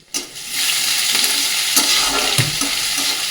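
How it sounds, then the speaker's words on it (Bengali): Grated ginger fries in hot mustard oil with cumin, bay leaf and dried red chilli, a sudden loud sizzle that settles into a steady crackling hiss with a few stirring knocks, close up. "আদাটা একটু ভালো করে ভাজা ভাজা করে নেব"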